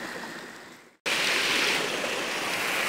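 A mountain river rushes steadily through hilly terrain where people are fishing, a loud, close, continuous hiss of flowing water that cuts out for a split second before resuming at full strength.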